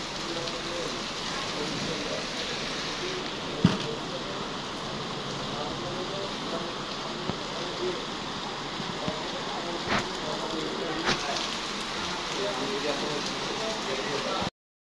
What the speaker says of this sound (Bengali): সুন্দর বৃষ্টি হচ্ছে